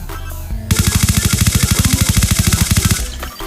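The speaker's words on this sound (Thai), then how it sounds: "เดี๋ยวมาดูว่าพี่จะยิงแบบ ไม่คุมปืนก่อนนะครับ" A Type 25 rifle in a video game firing a long unbroken full-auto burst of rapid, loud, evenly spaced shots lasting over two seconds, close and alone.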